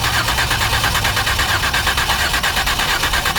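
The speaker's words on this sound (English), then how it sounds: "So go ahead and crank it" A 2008 Ford Escape with a no-start fault cranking continuously, a loud, steady, rhythmic churning of the starter turning the engine over without catching, close up.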